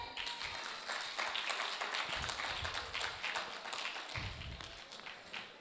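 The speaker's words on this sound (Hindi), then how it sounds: "तो खुद के लिए एक जोरदार तालियां हो जाएं।" Loud applause from an audience at a cultural program gathering, dense steady clapping filling the whole stretch with some low rumble near the end.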